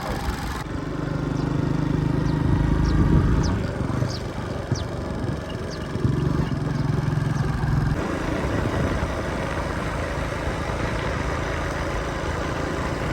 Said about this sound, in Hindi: मोटरसाइकिल पे लोड आया तो सवारी भी जो है वो चेंज हो गई है, यानी कासिम साहब पीछे हो गए हैं